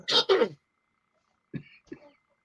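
Two quick, sharp coughs from laughing up close, followed by a short pause and then a couple of softer throaty sounds.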